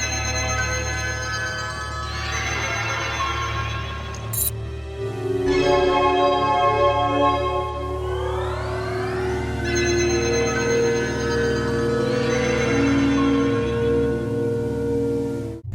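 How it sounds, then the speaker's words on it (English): Computer startup chime in Resident Evil 5, the same startup sound used in Resident Evil 1, rings out as a loud sustained tonal bell-like tone with sweeping pitch glides across the whole stretch. "activating a nearby computer triggers a familiar chime, being the exact same startup sound used in Resident Evil 1."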